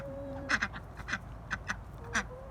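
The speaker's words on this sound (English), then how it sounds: "Do you see the ducks?" Real ducks quack in a loose series of about eight nasal calls at moderate distance over a steady low background hum, with no talking.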